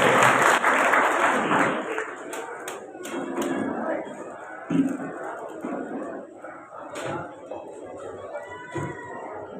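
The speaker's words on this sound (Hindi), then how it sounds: "जोरदार तालियों के साथ उनका स्वागत करें।" An audience at a kavi sammelan poetry gathering for the Maharaja Agrasen Jayanti festival in Badarwas breaks into loud applause that gradually thins, while a voice talks over it.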